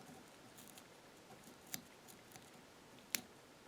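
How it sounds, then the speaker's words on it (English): Scissors snip the butt ends of material at the hook while tying a crayfish fly for bass, giving two sharp, quick cuts close by against a quiet room with faint handling noise. "Now while we've got it pinched, we're going to cut away the butt ends."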